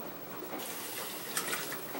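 Water is poured into a cooking pan for a spinach pasta bake sauce, making a steady, faint running splash with a few small spatters near the end.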